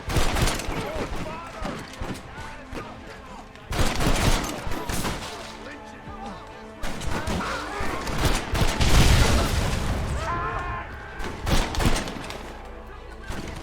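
Gunfire in the Red Dead Redemption video game, with rapid bursts and booming shots coming in several loud waves and mixed with game dialogue and shouting.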